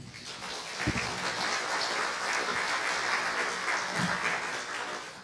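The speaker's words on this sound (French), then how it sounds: "On vous applaudit, Olivier Ayon." Sustained audience applause at a talk on performance-related scams, a thick, even wash of many hands clapping that fills the whole stretch at moderate loudness.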